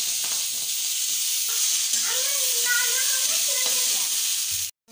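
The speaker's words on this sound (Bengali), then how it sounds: "বরবটিগুলো ভেজে নেব।" Yardlong beans (borboti) fry in a pan with a steady, loud sizzle and hiss that holds throughout and cuts off abruptly near the end, with a few faint tones and clatters mixed in.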